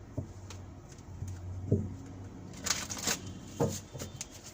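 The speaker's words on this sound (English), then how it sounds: "So I do shuffle my cards and keep shuffling them" Soft riffling of cards being shuffled, a few brief bursts close by, fairly quiet with a low background hum.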